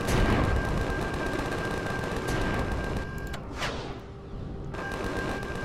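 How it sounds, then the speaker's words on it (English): Gunfire in the video game Empyrion Galactic Survival, rapid automatic bursts crackling densely and continuously, with a brief lull and a couple of louder cracks before the firing resumes. "Woo, look at that gunfire."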